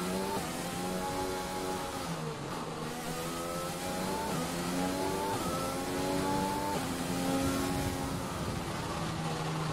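F1 2020 race cars on the Marina Bay formation lap, warming their tyres: a continuous high-pitched engine whine that rises and falls as the cars accelerate and weave, loud and close, with no talk.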